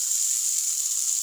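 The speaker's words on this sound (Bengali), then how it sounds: "পেঁয়াজ দেবো এখন।" Chopped onion hits hot oil in a pan and gives off a steady, bright sizzle that is close and fairly loud, with no talking.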